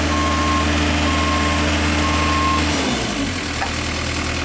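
Steady electronic reversing beeps from a Genie lift, repeating evenly over a loud engine hum, the beeping stopping partway through.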